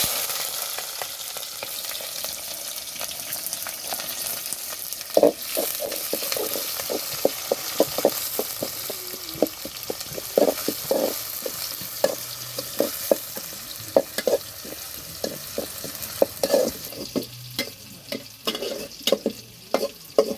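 Bay leaf and spices fry in a hot pan, a steady sizzle broken by frequent sharp scraping stirs and clicks of a spoon against the pan, close and alone.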